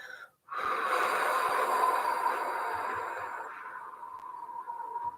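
A single long, deep breath, an inhale then a slow, steady exhale that tapers off, close and fairly loud, with no talk.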